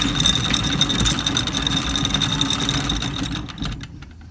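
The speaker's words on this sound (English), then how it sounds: "So I got the engine in reverse." A boat engine runs in reverse, a steady close chugging rumble with a faint high whine that fades and thins out near the end.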